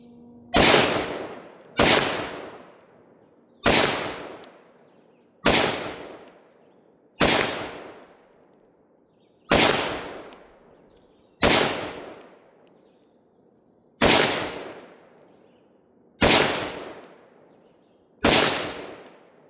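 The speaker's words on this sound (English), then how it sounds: "I've got a Steel gong, a 10-inch steel gong set out at about 50." Rifle shots from a BCM rifle ring out about ten times at a steady pace, each a sharp loud crack followed by a decaying metallic ring from a 10-inch steel gong at roughly 50 yards, outdoors with no talking.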